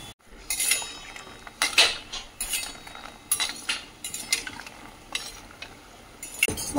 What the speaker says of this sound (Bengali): আর এইগুলো ভাজা হচ্ছে এখন।